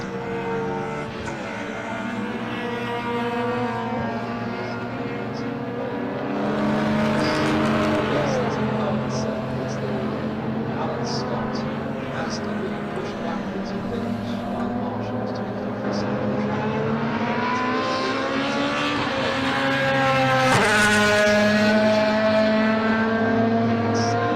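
Race cars lapping Silverstone circuit, with a Vauxhall Astra GTE and a Vectra in the field; steady loud engine drone with rising and falling harmonic whines as cars pass, under continuous commentary.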